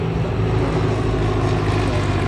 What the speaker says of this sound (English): Well, it's always nice having the Emirates engines.